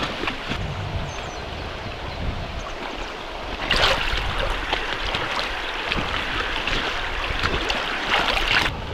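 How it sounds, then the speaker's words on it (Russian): A river flows steadily during a rafting trip in the Russian Far East, a broad continuous rush of water with wind noise, swelling slightly louder midway and staying fairly close throughout, with no talking. "Такая тишина, шум реки,"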